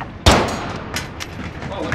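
A single sharp, loud gunshot cracks out close by in a Call of Duty Modern Warfare match, followed by fainter distant shots and scattered game noise.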